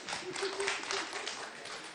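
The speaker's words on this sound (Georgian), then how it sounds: "გთხოვთ აპლოდისმენტები." A crowd claps in a steady, moderately loud wash of applause, with a faint voice underneath.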